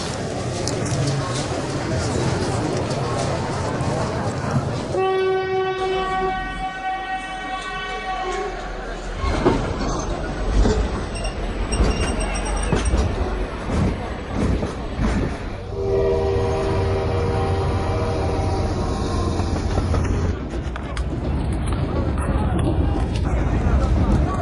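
A moving train rumbles and clatters throughout, with a long, loud horn blast early on and a second horn later, all close and continuous.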